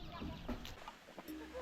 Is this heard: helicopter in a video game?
no